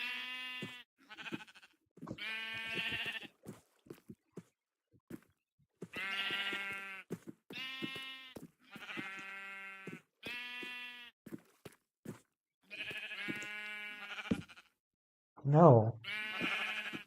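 Sheep in Minecraft bleat repeatedly, a string of short wavering blats spaced through the scene, loud and close, with one sharper different cry near the end.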